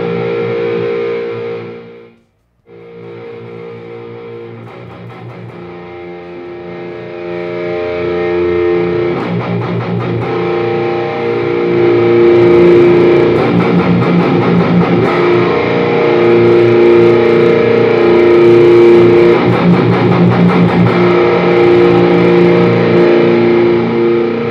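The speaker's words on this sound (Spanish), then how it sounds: "Vamos a intentar con un tono de distorsión para que vean que al final de cuentas no pierde su efecto." Distorted electric guitar played through a tiny Mooer Baby Bomb power amp, a loud, sustained crunchy tone with ringing chords, a brief cut near the start, then growing fuller and louder with no speech.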